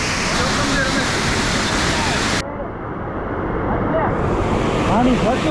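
A large monsoon-fed waterfall in Kutch near Bhuj roars with rushing floodwater, a loud, steady, close wash of noise that fills the whole stretch, with voices faintly audible beneath it.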